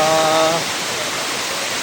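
Kurdas waterfall in the Konkan region roars as a steady, dense wash of falling water that fills the whole clip, with a brief tonal hum fading out near the start.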